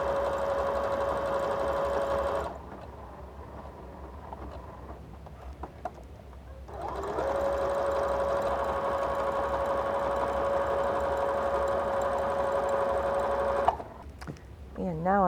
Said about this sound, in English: So I'm just using a rickrack stitch. It's not going to be a real tight satin stitch.